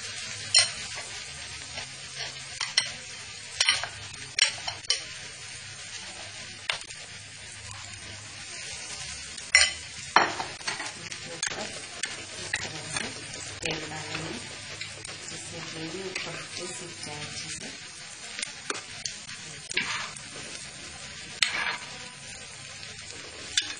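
Vada frying in hot oil in a kadhai, a steady crackling sizzle with sharp spattering pops and occasional scrapes of stirring, close and continuous throughout.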